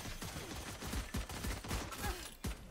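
Rapid game gunfire from the shooter Valorant, a steady stream of sharp shots in quick bursts and single cracks, loud and close with no talking over it.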